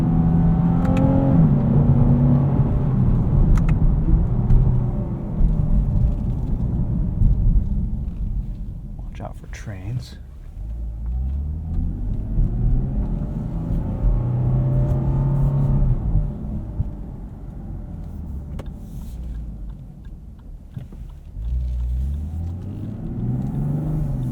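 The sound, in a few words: Lexus IS 350 F Sport engine rev matching while driving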